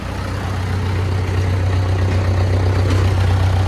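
An IH Farmall 400 gas-start diesel tractor engine runs steadily at close range, a loud, continuous low-pitched rumble with an even throb and no voices over it.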